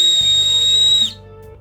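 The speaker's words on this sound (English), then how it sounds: "it's not every day your shoe has a whistle on the back of it" A whistle built into the back of a New Balance 574 YURT 'Sharkskin' sneaker, blown in one loud, steady, high-pitched tone that stops abruptly after about a second, alone with no talk.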